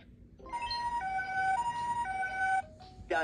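An ambulance siren sound effect wails in alternating high and low tones, loud and close, in a children's cartoon, ending abruptly with a brief burst of another bright sound.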